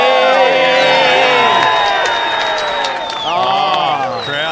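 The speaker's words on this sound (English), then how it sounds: "Crowd's going nuts. They've erupted." Spectators on the hill at the Shark Island bodyboarding contest in Cronulla erupt in loud, sustained cheering and whooping, with an excited voice shouting over the crowd.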